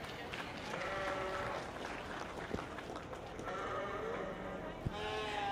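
Sheep bleat repeatedly at a 4-H/FFA livestock show, several wavering calls from the show ring over crowd murmur, with a couple of sharp knocks and a voice heard faintly underneath.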